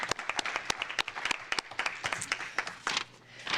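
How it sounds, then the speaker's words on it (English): Small audience at a town council meeting in Truckee giving a sparse round of applause, individual claps distinct and irregular, fairly quiet and tapering off toward the end. "let's give them a round of applause."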